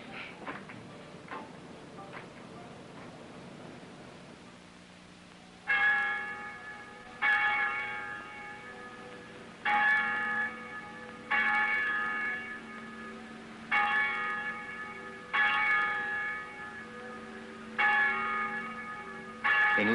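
A small-town church bell tolls repeatedly at a steady, unhurried pace, each ringing stroke lingering with a long resonant hum, clear and fairly close.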